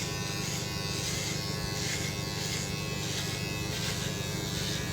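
An electric clipper trimming the back of the neck, a steady close buzzing drone that holds evenly throughout without pauses.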